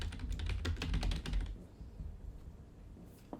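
Computer keyboard keys tapped in a quick burst of clicks for about a second and a half, then quiet desk ambience with a faint stray tap, close and clear, no talking.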